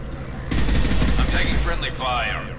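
Rapid bursts of sci-fi weapon gunfire from the video game Mass Effect 2, loud and sustained like a close fusillade, with electronic effects and a voice briefly speaking over the shooting.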